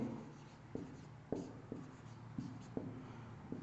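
Chalk taps and scratches on a board during a maths lesson on matrices, with several short strokes at irregular intervals, faint and close, over a low room hum.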